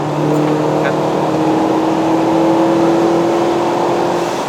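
A Proton Inspira 2.0 five-speed manual with a bolt-on turbo accelerates hard, heard from inside as a loud, sustained engine drone with a steady whining tone running over it.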